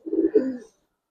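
A Giribaz silver pigeon with a Narayanganj club tag gives a single close, soft, throaty coo lasting under a second, then falls silent.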